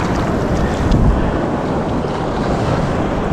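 Steady rushing surf at Galveston with wind buffeting the microphone, a continuous loud wash of breaking waves close by.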